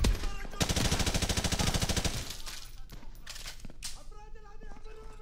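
Gunfire in Call of Duty: Modern Warfare Remastered, a long burst of rapid automatic fire with a heavy low thump, loud and close, followed by scattered shots, clatter and game sounds.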